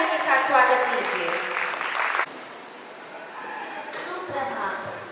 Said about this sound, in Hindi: जोरदार तालियों के साथ स्वागत कीजिए।